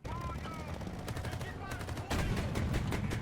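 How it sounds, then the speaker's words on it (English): A BMD-4M2 airborne fighting vehicle in War Thunder fires its 30mm autocannon and coaxial machine gun in rapid bursts of loud shots, growing heavier partway through, with a voice speaking over the firing. "And then you got a 30mm auto cannon, and you got a machine gun."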